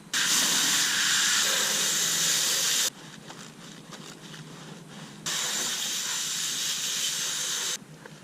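Pressurised water spray hisses loudly and steadily while washing the box of a Honda three-wheeler, stopping abruptly, then resuming for a second burst before cutting off again.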